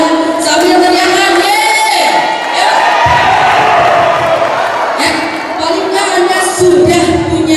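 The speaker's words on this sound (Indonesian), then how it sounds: "Kasih tepuk tangan dong buat Anda sambil teriakan" Seminar audience clapping and shouting together in a loud, dense crowd roar, with rising cheers and yells over sustained applause in a hall.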